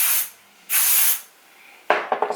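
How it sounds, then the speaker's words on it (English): Texture spray is hissed onto short hair in two separate short bursts, followed by a quick series of sharp clicking taps, close and clear with no talk. "spray a little bit of texture spray"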